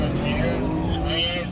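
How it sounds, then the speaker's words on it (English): Race car engine at full throttle on a straight, a steady loud droning roar with a constant harmonic whine held throughout, close to the car. "Full throttle straight line, full throttle straight line."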